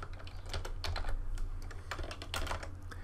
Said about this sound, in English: I'll just type the word make in again